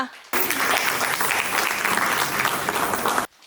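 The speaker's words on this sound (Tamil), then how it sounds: "சூப்பராக ஒரு கைத்தட்டு கொடுத்துடலாமா?" Audience applause after a classical dance performance at a grand finale, cutting in abruptly and holding dense and loud for about three seconds before stopping sharply.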